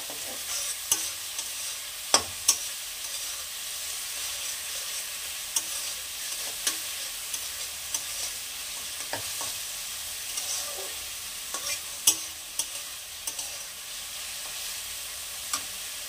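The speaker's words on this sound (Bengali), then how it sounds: "একটু মিনিট খানেক ভাজবো।" Spices fry in hot oil in a pan for chana masala and are stirred, giving a steady, close sizzle broken by sharp scraping clicks of the spoon, with no voices.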